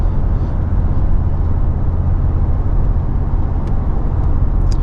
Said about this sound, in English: there's a little bit more road noise and I can hear the wind